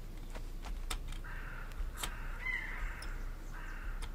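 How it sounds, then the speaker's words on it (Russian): A raven caws in the Hello Neighbor game: a few faint, hoarse calls sound at a distance over quiet background ambience, mixed with soft clicks. "Ворон слышим."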